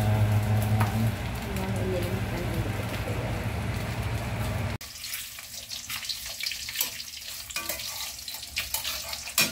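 Food fries in a pan with a dense, steady sizzle while it is stirred with salt. Partway through, the sound shifts abruptly to a brighter, crackling sizzle with scattered scraping clicks.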